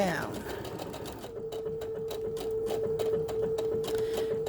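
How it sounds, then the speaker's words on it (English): Sewing machine running a blanket stitch for raw-edge fusible applique: a close, rapid needle clatter with a steady motor whine, slowing at first and then settling into an even rhythm, with someone speaking over it. "As you're doing machine applique using a blanket stitch"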